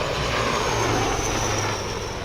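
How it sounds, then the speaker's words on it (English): An Indian-made Prachand light combat helicopter runs nearby, producing a loud, continuous engine and rotor roar with a low steady drone and no speech. "Prachand for the light combat helicopter that you can see behind me now."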